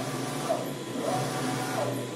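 A CNC machine's axis travels under servo motor drive during a LinuxCNC retrofit, giving a steady whirring hum with a few faint rising and falling tones, close and without talk.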